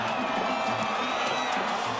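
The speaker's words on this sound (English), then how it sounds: "And the crowd is really going at it now." A high school football crowd at the Tinaco Bowl roars in a steady, dense wash of cheering and whoops, with a commentator talking over it throughout.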